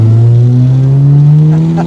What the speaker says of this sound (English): First gear, jam the throttle and turn the wheel, and the back end's floating.